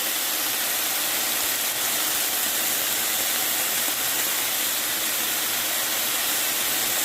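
Chicken and vegetables sauteing in a pan for a stir fry make a steady, dense sizzle and hiss that runs unbroken at an even level throughout, with no talking over it.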